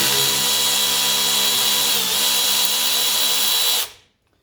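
Power tool, likely an impact driver or drill, spinning out a 10 millimeter bolt from a radiator bracket on a 1985 Mercedes 300TD wagon; a loud close steady high whine lasting nearly four seconds, then cutting off abruptly.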